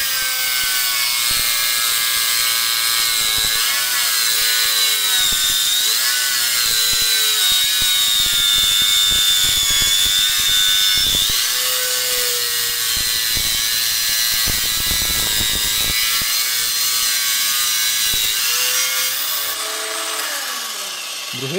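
A Parkside cordless angle grinder cuts continuously, a loud, high, sustained whine with shifting pitch as the disc bites and slows, lasting the whole stretch before winding down at the end.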